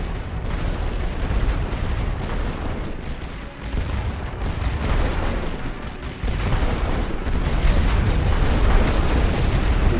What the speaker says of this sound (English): Another suppressive barrage.